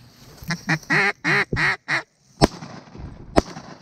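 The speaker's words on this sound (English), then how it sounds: "Somebody shoot that duck." A hen duck on a December hunt for greenheads and pintail gives a loud, rapid series of five or six raspy quacks close by, followed by a couple of sharp knocks or clicks.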